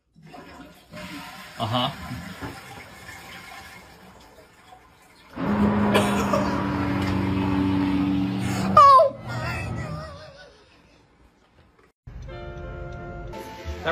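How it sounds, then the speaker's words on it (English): A household toilet flushes for several seconds with a loud, steady rush of water, preceded and followed by people talking nearby. "flush the toilet again"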